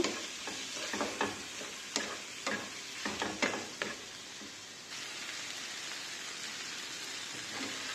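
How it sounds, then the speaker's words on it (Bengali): A spatula scrapes and taps through rohu fish dopiaza spices and salt in a pan, a run of irregular clinks and scrapes over a low sizzle that then fades to a steady faint hiss. "দিয়ে দিচ্ছি স্বাদ মতো লবণ। ভালোভাবে মিক্স করে নেব।"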